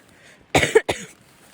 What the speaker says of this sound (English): I still have my persistently bad cough